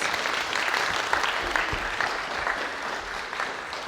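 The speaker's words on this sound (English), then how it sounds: "Give her a round of applause." An audience applauds in a dense, steady wash of clapping that holds evenly throughout and fades slightly toward the end, with no voices standing out.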